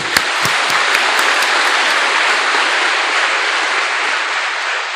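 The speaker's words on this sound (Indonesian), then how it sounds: "Tepuk tangan untuk DPP." Audience applause at a religious congregation gathering, a loud, dense roar of clapping that starts with a few sharp close claps and then settles into a sustained, even wash.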